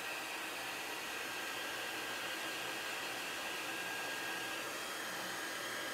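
A hot heat tool blows a continuous, loud hiss of air while drying a chalk-painted cup, steady and unbroken with no talking.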